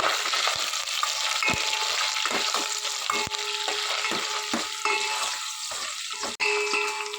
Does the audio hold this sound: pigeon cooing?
no